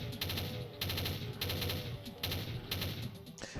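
Rapid automatic gunfire from the Doom video game, fired in several sustained bursts separated by short pauses, loud and close with no voices.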